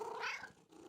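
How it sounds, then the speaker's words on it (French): A cat gives one soft, drawn-out meow in a quiet room in a children's cartoon, close and gentle, with nothing else heard. "Maman et Caillou entendirent un miaulement discret."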